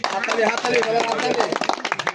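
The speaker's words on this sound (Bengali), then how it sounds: "আমি সবার পক্ষ থেকে আমার তারেক ভাইয়ের জন্য সবার পক্ষ থেকে করতালি চাচ্ছি" People clap together at a political gathering for Tarique, a brisk burst of close hand claps overlapping with voices and chatter, tapering into scattered claps at the end.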